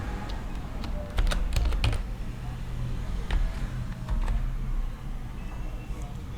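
Computer keyboard keys tapped while entering a username and password, an irregular run of close, crisp keystrokes with a few denser bursts over a faint background.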